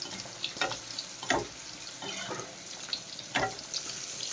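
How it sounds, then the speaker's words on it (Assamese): Khurma pieces and fish fry in hot oil, a steady crackling sizzle broken by several scraping stirs and clinks of a utensil at irregular intervals, close by with no talking. "এফালে মই এয়া খুৰমা ভাজি আছোঁ, এফালে এয়া খুৰমা বনাই আছোঁ, খুৰমা, আৰু এফালে মই মাছ ফ্ৰাই কৰি আছোঁ।"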